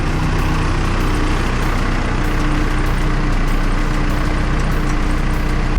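A backhoe's diesel engine runs steadily after a jump start, a loud, constant low rumble and idle close by, with no talk over it.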